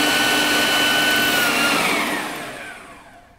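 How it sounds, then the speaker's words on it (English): Food processor whizzing a honey-sweetened cheesecake filling, a loud steady motor whine with blade noise that holds for a couple of seconds, then winds down and fades as it stops. "The processor, and give it a good whiz."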